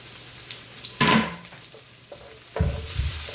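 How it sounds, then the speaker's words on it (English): Onions and garlic, with ginger, for a goat curry hit a hot pan: a loud hiss of frying bursts up, fades into lighter sizzling with small stirring clatters, then surges again as more goes in. "We're also going to put the onions and the garlic in."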